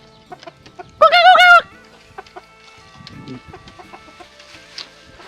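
A decoy chicken caged in a rural village near the Vietnam border lets out one loud, close cackling call, followed by quieter clucks and soft bird sounds in a calm outdoor setting.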